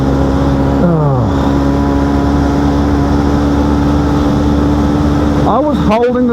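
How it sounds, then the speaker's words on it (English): A 125cc motorcycle held at full throttle with its engine straining, a steady loud drone mixed with heavy wind roar throughout, with brief rising whines near the start and end. "I was holding the throttle wide open and the bike was telling me it did not want to do so much as 70 k's an hour."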